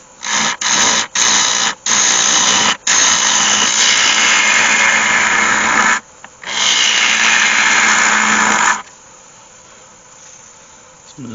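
A wood lathe hollows a yew lidded box, with loud gouge scraping and rasping in several bursts that stop and start, then fade to a quiet motor hum near the end.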